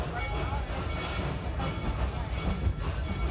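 Busch Gardens Serengeti Express train rolling along, a steady low rumble and rattle of the ride cars throughout, with faint background voices.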